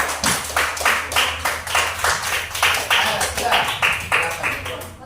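A classroom of students claps together after a group finishes its magnet project, producing a steady run of bright, rhythmic hand claps that fills the room for several seconds.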